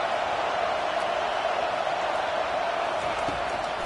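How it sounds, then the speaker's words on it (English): Steady broadband crowd roar in an American football video game as the defense faces third down, a dense continuous wash of noise at even loudness with faint commentary-like voices under it. "Decibels rising as the crowd gets behind this defense on third down"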